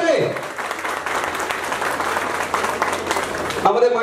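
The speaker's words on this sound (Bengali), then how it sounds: "তাই শিল্পীদের উদ্দেশ্যে জোরে হাততালি হোক" An audience applauds folk singers at a live stage performance, a steady dense roar of clapping that carries through the whole stretch before cutting off near the end, where a voice begins.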